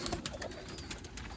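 Soft cooing of Sialkoti rooftop pigeons close by, with low, throaty calls over a quiet background.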